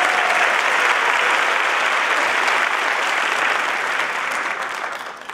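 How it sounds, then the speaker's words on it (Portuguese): Dense, steady applause fills a theatre after an orchestra performance by the Bachiana Filarmônica SESI-SP at Teatro Gazeta, holding loud and even before tapering off at the end. "mais uma salva de palmas para o Zé Antônio"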